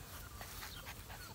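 A litter of young puppies crowds close underfoot, panting and whimpering. The soft, breathy panting and faint whines sit near the listener under a steady wash of background noise.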